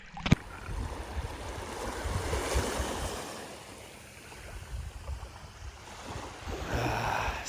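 Ocean waves wash onto Paradise Beach on Koh Ngai, Thailand, in a steady surging rush that swells and eases, with some wind buffeting the microphone and no talking.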